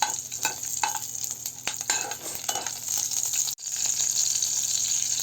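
Two dried red chillies and a slit green chilli frying in hot oil for a village-style chicken fry, a steady close sizzle with scraping stir strokes and a brief drop-out partway through.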